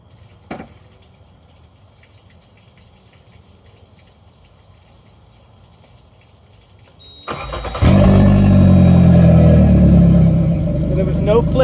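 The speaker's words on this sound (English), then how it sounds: "Let's start this boat." After a stretch of quiet with a single click, a boat engine cranks and catches, then settles into a loud, steady idle.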